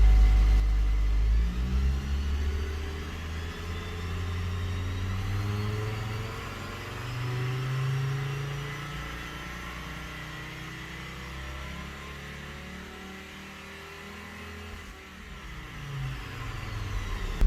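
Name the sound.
Hummer H3 engine revving to fuel cutoff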